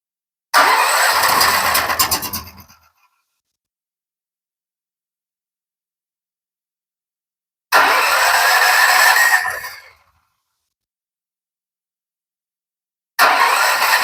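A 9,000 watt generator engine is cranked three times, each start a loud, close mechanical whir lasting about two seconds and then cutting out. Long silences separate the attempts, and no one speaks.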